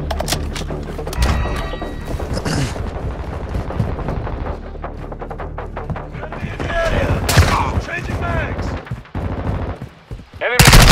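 Rapid, dense gunfire from Call of Duty: Modern Warfare II rattles almost nonstop, with automatic bursts, sharp reports and occasional thuds, loud and close, mixed with brief in-game voice callouts.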